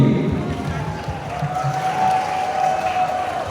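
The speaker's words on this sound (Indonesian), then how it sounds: "Sekali lagi kita beri tepuk tangan yang meriah untuk Bapak Dr." A school audience claps and cheers for Dr. Nasrul Fakih at a talk show, a steady wash of applause that runs throughout while a voice talks over it.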